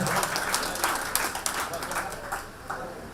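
Audience applause at a family fun club event, a moderate steady patter of clapping lasting throughout, with some talk and crowd noise mixed in.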